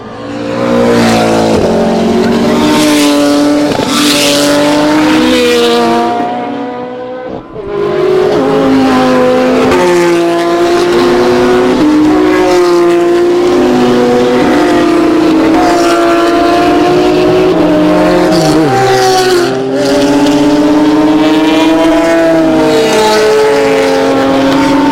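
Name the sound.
racing cars passing the line after safety car period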